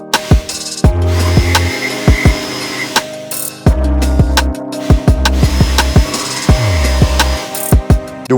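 A jigsaw bites into thick, strong wood while a club handle is being shaped. The motor whines loudly in bursts that start and stop, with sharp knocks and clatter between cuts, close up with no talking.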